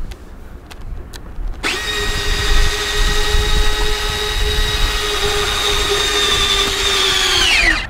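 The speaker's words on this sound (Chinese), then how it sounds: "这个飞机它还有这个收放起落架" Retractable landing gear on a ducted-fan Su-47 model jet gives an electric whine with bright harmonics. It starts abruptly after a short quiet stretch and holds steady and close until it cuts off at the end, with no talking.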